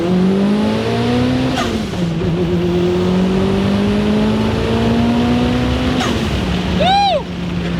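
A tuned 600-horsepower Toyota RAV4 pulls hard under about 14 PSI of boost, its engine droning loud and close with rising pitch through the gears and short drops between shifts, ending in a chirpy whistle.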